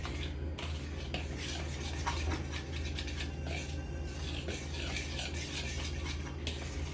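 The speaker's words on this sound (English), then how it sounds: "I'm gonna whisk it until combined." Fork whisking dry ingredients for a Victoria sponge cake in a bowl, a steady scraping and stirring rustle that runs continuously for several seconds at moderate loudness, with no talking.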